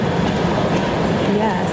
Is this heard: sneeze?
no